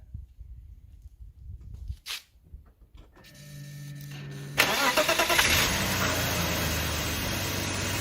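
A project BMW car engine cranks with a whirring starter, then catches and settles into a steady, loud idle after a few quiet knocks and clicks.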